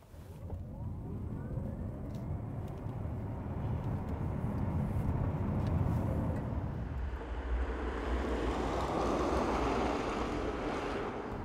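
A 2022 Genesis Electrified G80 electric car accelerating from 0 to 100 km/h, heard as a steady, broad roar of road and wind noise that brightens and thickens in the second half, with no voices.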